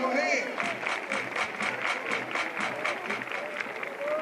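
A crowd at a college baseball game claps in a rhythmic, regular beat, fairly faint and distant, with a stadium chant-style prompt and crowd murmur mixed in.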